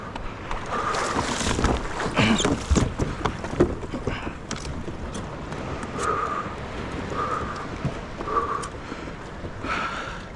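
A kayak launches into the sea at La Jolla before dawn in the rain, with splashing water, paddle strokes and hull knocks close by over a steady wash of surf and wind.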